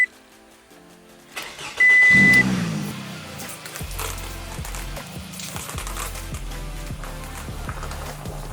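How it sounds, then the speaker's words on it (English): A car that has sat unused for a while cranks and starts, a sharp loud burst of cranking followed by the engine catching and settling into a steady, nearby idle with rhythmic pulses. "This car hasn't even been started in a while. Hopefully it starts up first try."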